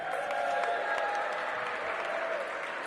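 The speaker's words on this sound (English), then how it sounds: "Let's give Nzike Cole a big round of applause." A crowd applauds steadily at a holiday ribbon-cutting for a new recreation center, the clapping dense and sustained throughout with no voices rising above it.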